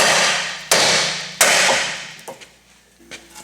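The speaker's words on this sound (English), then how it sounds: "just strike the knuckle with a hammer" Two sharp metallic hammer blows ring out on a steel steering knuckle of a Dodge Caravan during tie rod end removal, each decaying slowly, followed by a few lighter taps and clinks.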